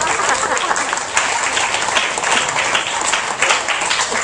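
Sustained applause from a concert audience at a senior high school band performance, steady dense clapping filling the whole stretch at fairly loud level, with no talking over it.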